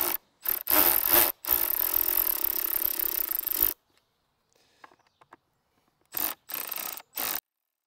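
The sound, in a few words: Phillips screwdriver unscrewing Yamaha MT-09 airbox screws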